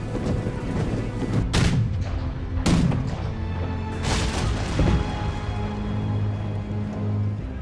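Cannon fire in a Total War battle recreating the 1634 Battle of Nördlingen, with several deep booms and loud blasts over a continuous low rumble of distant battle din.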